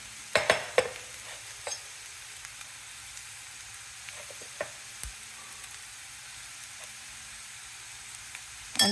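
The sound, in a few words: stirring soaked poha in a frying pan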